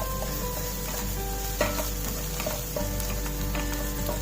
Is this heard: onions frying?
yes